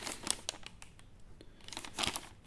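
Wrapping paper crinkling and tearing as a Christmas present is opened, in close bursts with a loud rip near the end, no talking.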